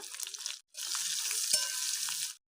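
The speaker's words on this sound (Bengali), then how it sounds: "ওই তেলের মধ্যে আমি গোটা জিরা শুকনো লঙ্কা ফোড়ন দিচ্ছি পেঁয়াজ কুচোনা" Chopped onion hits hot oil already tempered with whole cumin seeds and dried red chilli, giving a loud close sizzle that breaks briefly, then resumes as a steady hiss and crackle.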